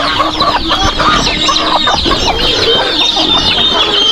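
Several chickens on a farm cluck and chatter nearby, a busy continuous flock sound with overlapping calls and no talking.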